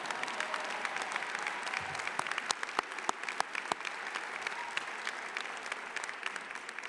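Commencement audience applauding at a winter graduate school ceremony, a steady wash of many hands clapping with scattered sharper claps standing out, moderately distant and unbroken for several seconds.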